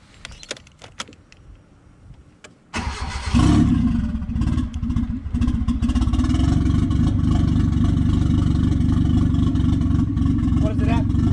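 Keys jingle faintly before a turbocharged Hyundai Getz engine cranks and fires up abruptly, then settles into a loud, close, steady running drone with slight rev changes.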